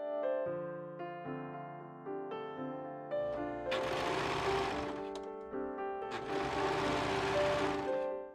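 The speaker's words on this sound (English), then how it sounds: "I pinned the front to the back of the bottom part and serged the seams together on the sides." A serger stitches the side seams of a floral summer top in two loud bursts of rapid whirring over a background of soft music, with no talking.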